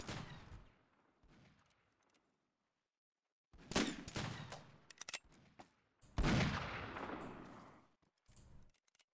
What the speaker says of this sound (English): Look, they're definitely shooting me.